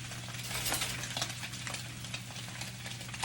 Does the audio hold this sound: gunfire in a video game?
no